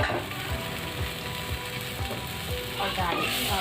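Mutton liver in its marinade sizzles and crackles steadily in a pan just after water is poured in, a loud close frying hiss with occasional stirring scrapes.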